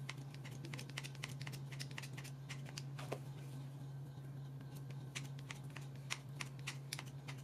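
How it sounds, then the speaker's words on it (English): Kitchen scissors snip repeatedly through shredded pork butt, giving a quick, irregular run of small crisp cuts over a steady low hum, close and fairly quiet with no talking. "I'm just gonna chop it with these scissors"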